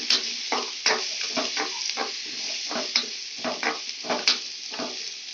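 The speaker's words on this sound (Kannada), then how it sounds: "ಸ್ವಲ್ಪ ಎಣ್ಣೆ ಬಿಟ್ಟು ಚೆನ್ನಾಗಿ ಹುರ್ಕೊಬೇಕು" Ingredients frying in a little oil until reddish, with repeated spatula strokes scraping the pan in an uneven rhythm over a light, steady sizzle, close and clear.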